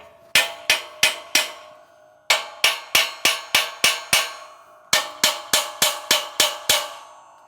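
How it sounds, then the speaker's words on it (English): A hammer lightly taps the steering knuckle of a 2003-2008 Toyota Matrix during brake dust shield replacement, in three close bursts of four, six and six crisp metallic strikes, each ringing briefly with no talk. "I'm going to lightly tap with a hammer on the steering knuckle."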